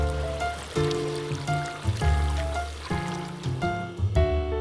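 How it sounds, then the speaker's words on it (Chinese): Beer pours into a pot of pig trotters cooking with ginger, rock sugar, bay leaves and soy sauce, a close gurgling, bubbling stream in uneven surges with tonal glugs. "倒入啤酒"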